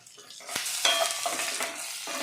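Tempering spices with asafoetida for gongura pulihora fry in a pan while being stirred, a close, continuous sizzle broken by scraping spoon strokes.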